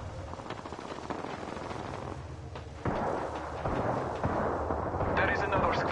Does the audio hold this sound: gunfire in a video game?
yes